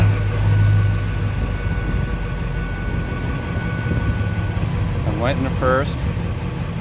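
Ford F250 truck engine running and put into gear under load, a steady low rumble and drone throughout, with someone speaking briefly over it and a short high-pitched squeal near the end.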